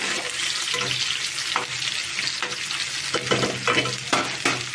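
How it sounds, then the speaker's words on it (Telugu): Sliced onions and green chillies fry with curry leaves in hot oil, giving a continuous close sizzle with bursts of sputtering crackle. "ఉల్లిపాయలు వేగుతూ ఉండగానే కరివేపాకు, ఉల్లిపాయ ముక్కలు కూడా ఎర్రగా వేగిపోయినాయండి."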